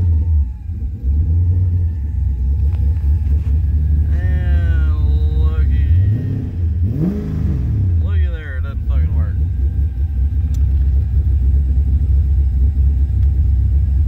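An LS-swapped engine with a Holley Terminator fuel injection system runs with a steady low rumble throughout, rising briefly in a rev, while someone talks over it.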